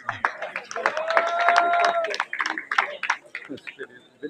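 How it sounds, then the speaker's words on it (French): An audience at a gesticulated lecture claps loudly for a volunteer named Nicolas, a dense run of hand claps mixed with voices and a short cheer. "On applaudit très fort Nicolas, qui est spontané, bénévole, enthousiaste."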